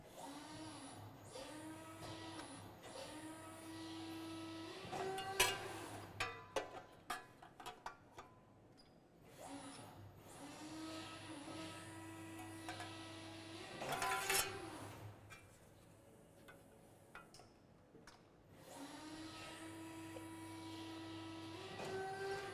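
An automated press brake with a 5-axis back gauge bends a metal part, giving a repeating mechanical hum and whine in cycles with sharp metallic clunks and clanks between strokes, moderately close amid steady factory machinery noise.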